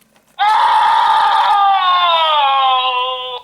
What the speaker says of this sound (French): Quand on tire donc sur les bras, les yeux, les cris, tout ça retentissent hein.